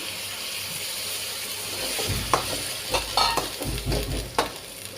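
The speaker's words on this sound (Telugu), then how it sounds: "ఇప్పుడు దీనిలో ఉడకబెట్టుకున్న శనగలు వేసేసుకుంటున్నామండి" Boiled chickpeas tipped into a pan of fried spices and chilli powder, then stirred for a chickpea snack: a soft sizzle, then the louder scrape and clatter of a spoon in the pan after a thud, near and without talk.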